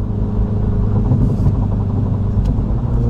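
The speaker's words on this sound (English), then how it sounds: "I'm driving in GP mode, which makes it even more fun to drive." Mini John Cooper Works GP3 in GP mode, its engine a loud, steady low rumble heard from inside the car while cruising on a highway, with no voices.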